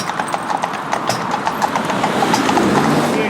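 Hooves of a mismatched pair of Friesian horses pulling a carriage clip-clop steadily on a road, loud and close, with a faint engine rumbling in the background.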